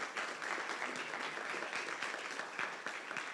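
Steady audience applause fills a hall at a physics anniversary symposium, a dense, even wash of many hands clapping, fairly faint and distant, with no break.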